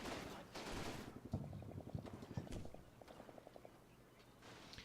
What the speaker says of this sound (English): He's going to shoot his MG.